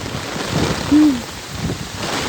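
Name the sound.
heavy rain in Pampanga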